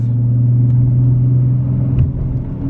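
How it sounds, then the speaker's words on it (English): A manual-transmission car accelerates through the gears. The engine's low, steady drone holds loud and close, then a brief shift dip near the end is followed by renewed pull. "let out the clutch, and ease onto the gas. At third now, we're gonna get it up to fourth"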